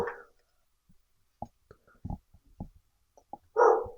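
A dog with cancer barks indoors, one gruff bark at the start and another near the end, with a few soft taps and thumps in the quiet gap between them.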